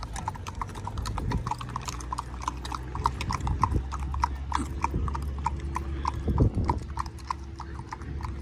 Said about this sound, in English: County Sheriff brought the horses down.